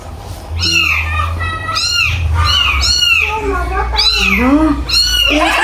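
A cat meows loudly and repeatedly, close up, several drawn-out whiny cries in a row.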